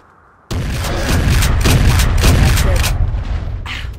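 Jurassic Park: Trespasser in-game gunfire: a sudden loud blast followed by a dense, booming burst of rapid shots lasting a few seconds, then fading into a brief lighter rattle.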